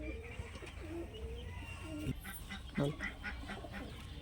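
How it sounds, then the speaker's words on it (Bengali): Old-generation pigeons in a small loft give a few soft, low coos against a faint, busy background, with occasional voices nearby. "খুব সুন্দর জেনারেশানের কবুতর পুরানো জেনারেশানের"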